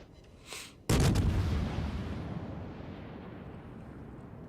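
A heavy naval gun blast fires at a Ranger carrier during a warship video game battle, one loud sharp boom followed by a long rolling decay, with a softer muffled thump just before it.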